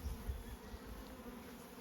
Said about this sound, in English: Very happy bees.